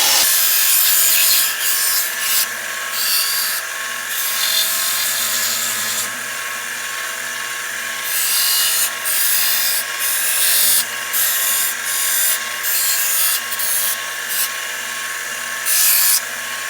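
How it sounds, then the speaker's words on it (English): Steady, loud abrasive rubbing while sanding a Canik Elite combat holster, running continuously over a constant mechanical hum, with periodic brief bursts where the scratchy grit noise swells and fades. "And we're going to do a little bit of sanding."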